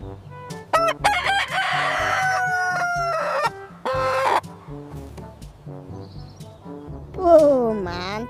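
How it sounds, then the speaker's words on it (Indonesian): A rooster crowing in a zoo or animal enclosure: several loud, close cock-a-doodle-doo calls with clucking between them, and a voice briefly heard near the end. "Widih, ada ayam jago."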